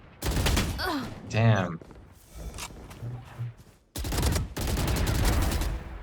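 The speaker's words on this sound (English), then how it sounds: "Those bullets were all over the place." Gunfire sprays in the shooter game Valorant, with loud close bursts of rapid automatic shots, one at the start and two longer ones near the end. A man mutters briefly between the bursts.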